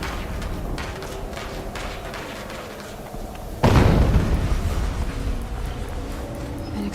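An explosion in the video game Horizon Zero Dawn Remastered lands midway as a sudden deep boom. A rumbling roar follows and stays loud over the busy game ambience.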